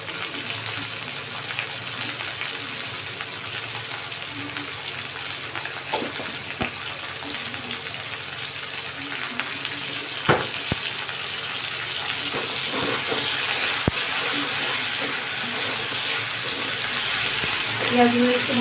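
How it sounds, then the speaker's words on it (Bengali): Onions frying in a pan for chilli potato, a steady close sizzle and hiss with a few sharp stirring knocks, growing slightly louder toward the end. "পেঁয়াজগুলো ভাজা হয়ে এসছে"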